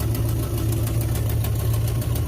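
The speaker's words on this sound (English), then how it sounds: "Sitting idling, it's probably using like 1 gallon of gas for every 30 seconds it idles." A mini tractor engine idles steadily and loudly up close, a continuous low rumble with a slight knocking pulse and no talk over it.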